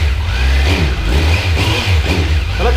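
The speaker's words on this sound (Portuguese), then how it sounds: "porque na oficina você consegue acelerar, ó." A new 2021 Kawasaki Z900 motorcycle engine revs inside a dealership workshop, a loud, close, sustained throaty roar with a steady low rumble and rising and falling throttle surges, heard alone.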